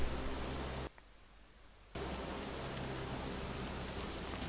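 Steady hiss of heavy rain in the video game The Faction War, falling continuously, cutting out abruptly for about a second before resuming at the same even level.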